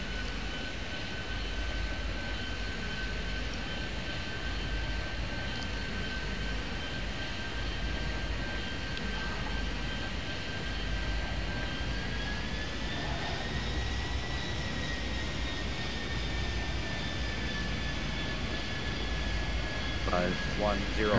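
Airplanes taxiing and taking off in the video game Airport Madness 3D, with a steady jet engine roar and a rising whine as a plane spools up, under intermittent radio-style talk.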